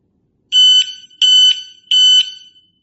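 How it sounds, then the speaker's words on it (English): Three short electronic beeps in an even, steady rhythm, each sharp and high-pitched, sounding close with silence between them. "the timer will beep 3 times when it hits the last 60"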